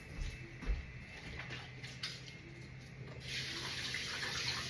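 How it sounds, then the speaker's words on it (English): Water runs steadily from a tap into a sink during handwashing, a soft continuous splash that swells slightly toward the end, with no talking. "Let me wash my hands, y'all."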